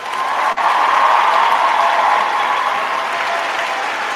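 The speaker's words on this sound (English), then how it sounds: "Let's clap it up for the Nuggets" A crowd claps for the Nuggets basketball team, steady dense applause that holds loud and even throughout with a brief dip near the start, no voices over it.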